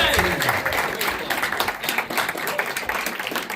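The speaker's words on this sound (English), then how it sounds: "Round of applause for the creators of Blind Cop" An audience claps through a short burst of applause after a film screening at a Q&A event, a dense patter of many hands heard close, with voices mixed in.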